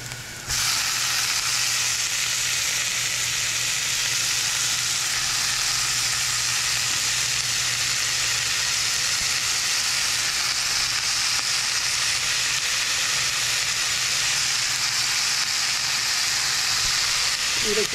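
Chopped greens with turmeric powder fry in a pan, making a loud, continuous sizzle and hiss that holds steady throughout with no voices.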